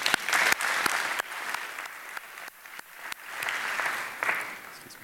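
An audience at a 2017 Annual Meetings plenary session in a large hall breaks into sustained, dense applause that swells and eases without pause, with no talking over it.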